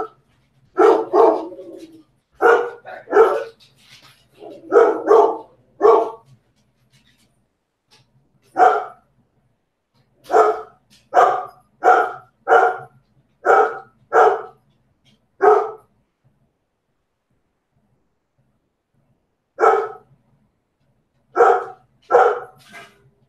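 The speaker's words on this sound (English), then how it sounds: "That's my dog barking." A dog barks repeatedly indoors in short clustered bursts, pausing between groups, fairly close and loud with no talking over it.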